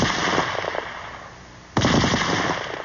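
A Vickers medium machine gun fires in sustained automatic bursts, loud and close, with a brief pause before another dense burst starts.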